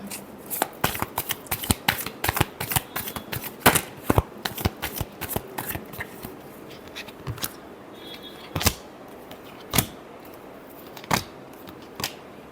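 Tarot cards are shuffled in a run of crisp, rapid riffling bursts that thin out into a few separate snaps and flicks, close and clear with no talking.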